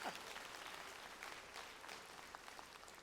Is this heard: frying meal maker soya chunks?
no